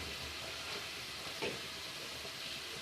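Three kilograms of chicken fry in a pot, giving off a soft, even sizzle that stays low and steady throughout with no voices.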